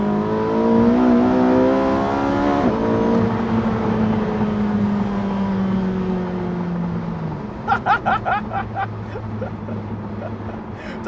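A Porsche 918 Spyder hybrid accelerates hard, its engine note climbing through rising harmonics before a gear change, then easing off; a few rhythmic pulsing bursts follow, and the car is loud and close throughout.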